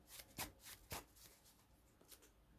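A deck of trading cards in dirty sleeves being shuffled by hand, giving a few quick riffling bursts of soft flicking and rubbing, close and fairly quiet, with no talk.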